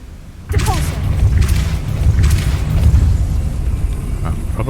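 A Depulso force spell cast in the Hogwarts Legacy video game lands as a sudden boom after a quiet start. A rumbling, explosive low wash then lingers for several seconds under the game's ambience.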